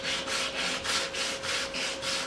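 Sandpaper rubbed back and forth across a wooden propeller for a small Stirling-engine helicopter, making about seven even, rhythmic rasping strokes up close.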